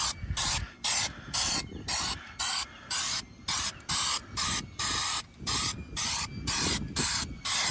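A protective coating is sprayed under a mower deck in about a dozen short, evenly spaced aerosol bursts, each a loud, close hiss separated by brief silences.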